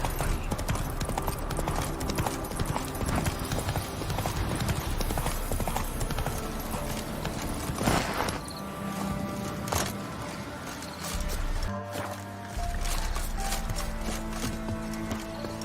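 Roach, a horse in the video game The Witcher 3, gallops in a fast, continuous drum of hoofbeats, loud and close, over dense game ambience with no talking.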